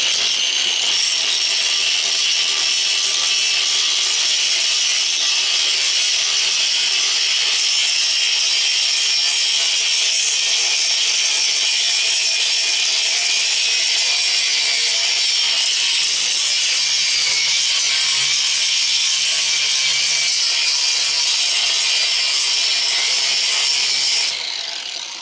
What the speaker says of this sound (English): Now I could just run that grinder over the top again, like I did the other side.